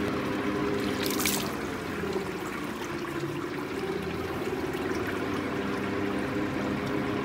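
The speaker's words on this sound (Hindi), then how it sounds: "ये देखें पानी का लेवल नीचे जा रहा है कितने स्पीड से, और ये नीचे को आ रहा है।" Water draining out of an air cooler's drain system, a steady trickling, splashing flow that runs continuously at moderate level with no voices.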